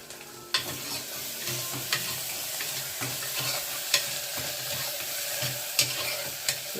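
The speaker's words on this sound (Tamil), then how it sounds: "நல்லா இதெல்லாம் வதக்கிக்கோங்க." Ginger and garlic sautéing in hot oil for a Kabuli chana masala, a steady close sizzle broken by regular scrapes and clinks of a stirring spoon against the pan, with no voices.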